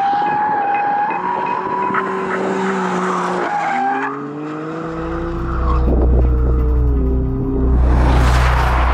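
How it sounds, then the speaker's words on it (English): A Mercedes-Benz C63 S AMG engine revs hard and roars, its exhaust note rising and falling with gear changes, then a deep rumble and a burst of hiss near the end. "Can you hear that exhaust noise?"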